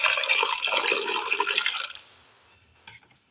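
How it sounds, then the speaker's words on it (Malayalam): Water pours into a pot of pumpkin pieces for cooking a curry, a loud close splashing stream lasting about two seconds before stopping, followed by faint drips and a light clink. "ഇനി ഇതിലേക്ക് നമുക്ക് വേകുവാൻ ആവശ്യമായ ഒരല്പം വെള്ളം കൂടി ഒഴിച്ചു കൊടുക്കാം."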